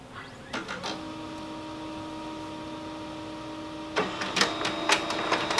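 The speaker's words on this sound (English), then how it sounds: "I'm gonna print that same document but two-sided now." An HP Color LaserJet Pro M277dw laser printer runs a two-sided job with a steady mechanical hum and whine. A couple of clicks come near the start, then a burst of clattering feed and roller noise toward the end.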